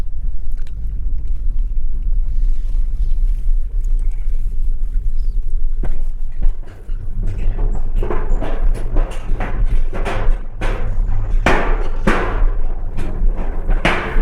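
A vehicle crosses a rattling bridge on the high mountain road to Umling La in Ladakh, with a low engine rumble followed by a quickening series of loud metallic clanks and thumps.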